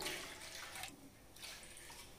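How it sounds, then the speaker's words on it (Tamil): Water is poured from a tumbler into a cooking pot for a home remedy, a soft, fairly faint splashing stream that pauses briefly and resumes, with no talk over it. "இப்ப இதை தண்ணி ஊத்திட்டு இந்த பாத்திரத்துல சேர்த்துடலாங்க"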